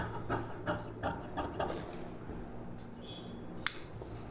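Scissors snip through fabric while a necklace-neck blouse is cut, a run of short crisp cuts in steady rhythm followed by quieter rustling and a single sharp click near the end.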